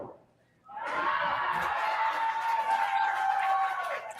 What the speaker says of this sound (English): You can hear the crowd going wild